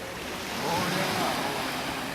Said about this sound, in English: Where the waves are breaking.